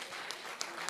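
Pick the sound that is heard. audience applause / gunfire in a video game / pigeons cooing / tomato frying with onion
audience applause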